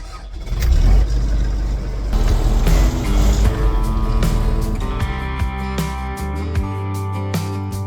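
A farm tractor engine cranks and fires up, a rough low rumble that settles into a running idle with some revving, heard close by with clanking and knocks near the end.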